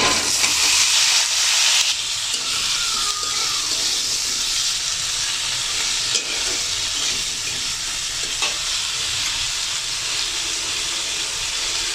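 Sliced potatoes, washed beforehand, land in a hot pan for potato mini Mughlai and sizzle loudly at first, then settle into a steady frying hiss with some stirring, with no talking.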